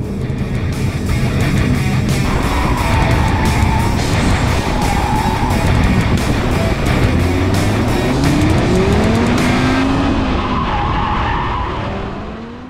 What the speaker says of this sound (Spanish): Ahora sí, venga, vamos a ver lo que corre.